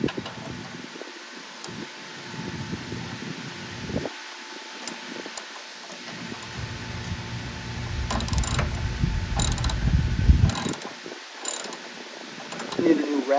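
Ratchet wrench clicking in short bursts on a Tecumseh Snow King 8hp engine of an MTD 824 dual-stage snowblower, with scattered mechanical clatter and louder handling noise in the middle.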